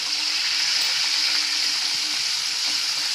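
Drumstick vegetable sautéing with turmeric in hot oil makes a loud, steady, bright sizzle that stays even from start to finish with no talk.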